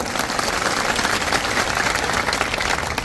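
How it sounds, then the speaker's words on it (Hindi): Dense crowd applause at a political public rally in Bhander, steady loud clapping from many people filling the whole moment without a break. "तालियों की गड़गड़ाहट से।"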